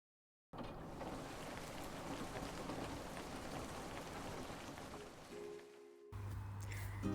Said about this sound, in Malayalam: നല്ല മഴയായിരുന്നു അന്നത്തെ ദിവസം ദുബായിലും ഷാർജയിലൊക്കെ